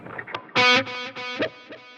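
A single distorted electric guitar note rings out, then repeats as a series of ping-pong delay echoes bouncing between left and right, fading with each repetition.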